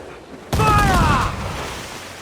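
Ship cannons fire a sudden, loud broadside in the pirate naval game Assassin's Creed IV: Black Flag, a booming blast that rolls into a long rumbling decay while crew voices shout over it.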